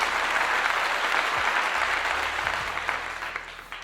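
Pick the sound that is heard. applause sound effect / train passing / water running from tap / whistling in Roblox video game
applause sound effect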